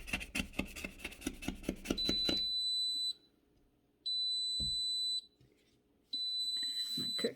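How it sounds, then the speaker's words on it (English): A glass cooktop gives three sustained high-pitched electronic beeps, a wetness warning during cleaning, each about a second long and evenly spaced, after some rubbing and wiping sounds. "My cook stove keeps beeping, telling me that it's too wet."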